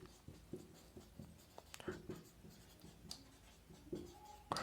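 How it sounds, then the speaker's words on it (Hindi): Pen writing on paper during a science lesson, heard as faint, scattered scratchy strokes and small taps close by, with light background noise and no talking. "मैं लिख रहा हूं"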